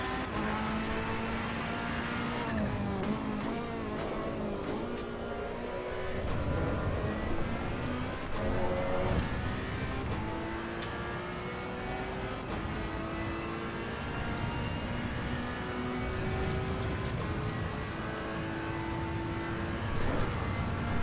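Racing car engine in the sim game Assetto Corsa EVO revs and shifts through gears over about twenty seconds, a continuous loud drone that rises, drops at each gear change and builds again, with no talking.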